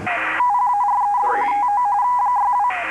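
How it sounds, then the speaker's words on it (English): Repeated electronic cash-register chime in the racing video game Burnout 2, a steady beeping ringtone-like tone sounding continuously and loudly for most of the moment, bracketed by brief louder bursts. "Cash register keeps ringing."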